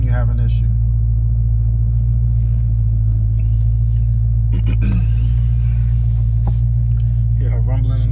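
A 2019 Dodge Charger Scat Pack idling, its engine giving a loud, steady low rumble that runs unbroken underneath, with brief faint rustles and clicks nearby.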